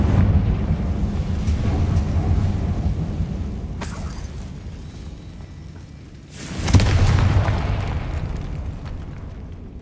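A Confringo fire spell in Hogwarts Legacy on PS5 lets off deep rumbling blasts in a decaying catacomb: one burst near the four-second mark and a louder boom later, over a steady low roar.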